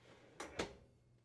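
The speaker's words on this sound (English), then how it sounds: "Confirm that the drawer can slide in and out freely." The baking drawer of a KitchenAid gas range, model KSGB900ESS, sliding on its rails: two quick, close, soft rolling slides in succession, one in and one out, in an otherwise quiet room.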